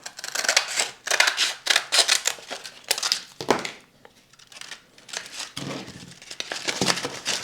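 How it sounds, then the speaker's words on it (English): Scissors cutting, a quick series of crisp, close snips and rustles with a short pause partway through before the cutting picks up again. "You can cut with a scissor."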